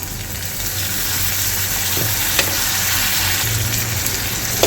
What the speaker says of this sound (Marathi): आणि याला छान परतून घ्यायचं आहे